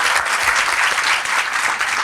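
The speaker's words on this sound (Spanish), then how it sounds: "un aplauso." Dense, steady audience applause at a panel discussion fills the whole stretch, loud and continuous with no voices over it.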